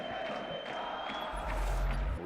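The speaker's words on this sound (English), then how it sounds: "Oh, they got the crowd singing." At the CDL Major Madrid esports event, a large arena crowd sings and chants, a diffuse roar of many voices swelling louder toward the end, with a low thumping underneath.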